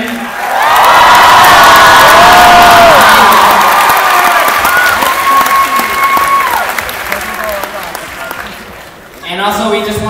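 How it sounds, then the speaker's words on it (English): Crowd at a Ken-Ya Dance Norcal 2012 dance event breaking into loud applause with cheers and whoops, swelling quickly, easing over several seconds, then a short burst of clapping returning at the end. "Can we give one more round of applause to Yuri,"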